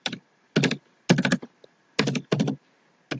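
Code being typed on a computer keyboard, close and clear, in quick bursts of several keystrokes separated by short pauses.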